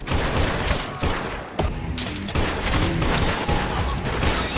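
Gunshots ring out in quick, loud bursts with sharp cracks and short gaps, close and continuous through the clip, with no talk.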